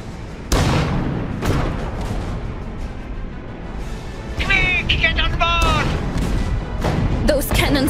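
Heavy cannon blasts boom through a 2020 Iron Harvest cinematic, a loud one early and more repeated bursts later over a dense, rumbling din, with shrill whistling sounds between them and voices speaking amid the noise.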